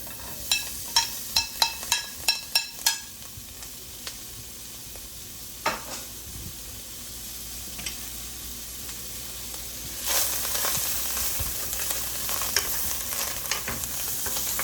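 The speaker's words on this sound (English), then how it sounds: "We're just gonna saute these real quick." Ingredients sautéing in melted butter for a coconut steamed fish dish: a run of sharp clicks and knocks at first, then a continuous hissing sizzle that grows louder and fuller toward the end, close with no talk.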